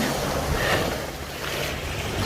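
Sea waves wash onto a beach in Cyprus in winter, a steady broadband surf roar with wind buffeting the microphone, fairly loud and continuous with no talk.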